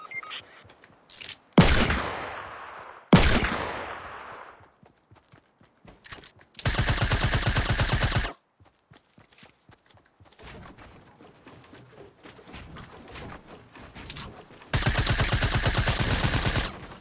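SMG gunfire in Fortnite Battle Royale Blitz mode: several loud, sustained bursts of rapid automatic fire separated by quieter stretches, with a couple of sharp single blasts early on.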